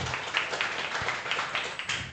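Scattered hand claps from a small crowd at a coffee club event in Bandung, irregular and moderately loud, forming a brief patter of applause.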